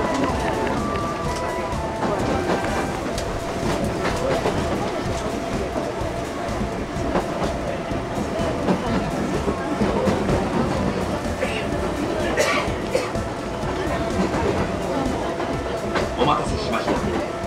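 A crowded Kintetsu express train running toward Kashihara-jingu-mae, with steady rumble and rail noise throughout and passenger chatter mixed in.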